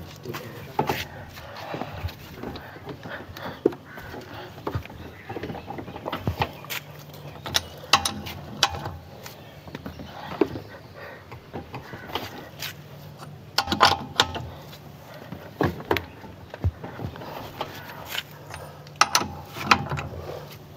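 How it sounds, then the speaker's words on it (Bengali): Wrench work on a car's wheel nuts during a wheel removal and refitting lesson, with repeated metallic ratcheting clicks and clanks in an uneven rhythm over a steady low hum, fairly close and moderately loud, with no talk. "এখন ছাড়ার পর আমি এখন কি করবো, টাইট দেবো এই চাক্কাগুলো।"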